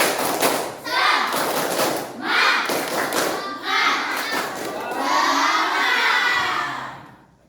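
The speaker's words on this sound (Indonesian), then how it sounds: "kita tepuk semangat dulu ya, yang keras. Tepuk semangat." Schoolchildren in an Indonesian classroom shout a loud group clapping chant, with rhythmic claps and thuds under excited voices lasting several seconds, led by a teacher during a lesson.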